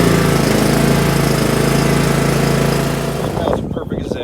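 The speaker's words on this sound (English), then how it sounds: "We're gonna go ahead and do a quick mow." A Cub Cadet XT1 lawn tractor with an MTD bagger mows tall grass, its engine droning steadily and loud up close, then shifting to a rougher, uneven chug near the end.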